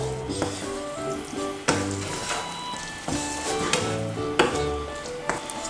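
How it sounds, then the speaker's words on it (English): Hot egg fried rice with black tiger prawns gets stirred in a pan or bowl, with steady sizzling under repeated scraping and tapping strokes. A loud thump comes now and then. Background music plays under the cooking sounds. "Just going to give this a nice stir"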